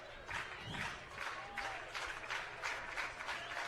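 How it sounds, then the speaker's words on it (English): Gretna East fans clapping in the stands at a state championship baseball game against Norris, a faint, distant patter of applause in rhythmic waves across the whole stretch. "Gretna East fans starting to clap"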